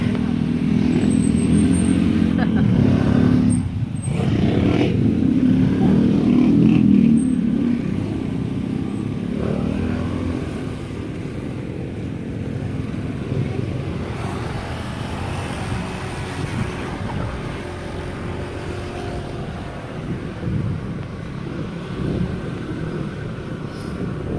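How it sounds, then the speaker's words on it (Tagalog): Continuous road traffic with cars passing close by, a loud broadband roar that swells in the first several seconds and then eases to a steadier rumble. "Traffic!"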